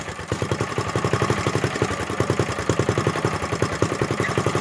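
A 3-seater kart engine runs at a fast, even idle with a throbbing, rattly pulse that holds steady and close as its muffler is pulled off, and no one talks.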